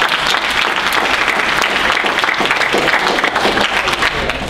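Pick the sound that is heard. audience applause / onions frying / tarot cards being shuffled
audience applause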